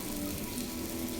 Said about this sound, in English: You hear those boys sizzle? Those hot dogs sizzle?